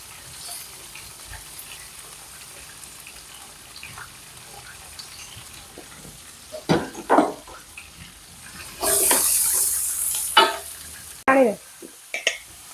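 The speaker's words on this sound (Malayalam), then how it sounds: "എണ്ണ ചൂടായിട്ടുണ്ട്. അപ്പം നമുക്ക് സവാള ചേർത്ത് കൊടുക്കാം." Sliced onion dropped into hot oil in a pan, giving a soft sizzle with intermittent stirring scrapes and clatter, plus a brief louder hiss burst midway; faint and fairly close, no talking.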